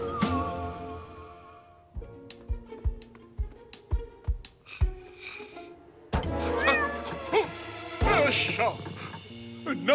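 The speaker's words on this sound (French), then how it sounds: "Non, Minou, tu vas mettre des empreintes de pattes partout sur mon capot" A cartoon cat meows and caterwauls several times in a workshop garage scene from a children's animated series, with short knocking thunks and a French-speaking character heard in between.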